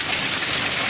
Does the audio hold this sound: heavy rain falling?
yes